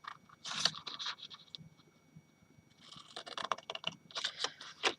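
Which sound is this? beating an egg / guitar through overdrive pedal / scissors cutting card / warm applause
scissors cutting card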